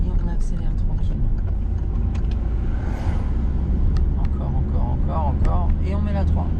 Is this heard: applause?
no